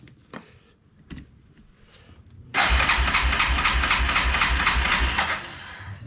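A 1997 Yamaha Big Bear ATV engine, choke applied, starts after a few faint cranking attempts, then settles into a loud, steady, throbbing idle that eases slightly at the end. Nothing is said.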